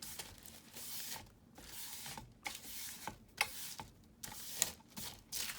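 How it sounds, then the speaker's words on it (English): Crinkling tissue paper rustles in repeated bursts, close and fairly quiet, with sharp crisp crackles between softer handling sounds. "But I love the tissue paper feel. I love the crinkly sound of it."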